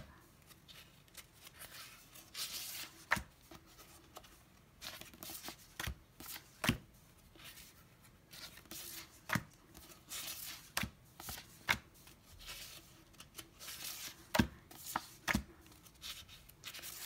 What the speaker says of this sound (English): Glossy paper is hard to turn.